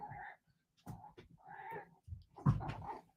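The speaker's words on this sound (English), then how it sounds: "Sorry, my cat wants to join me." A pet cat meows several times close by in a quiet indoor room, short drawn-out calls with pauses between them and no one talking.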